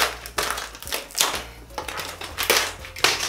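Adhesive tape is torn off a Poopsie Slime toy package in a series of short, harsh ripping bursts, about six of them at an uneven pace, close and fairly loud, with no talking.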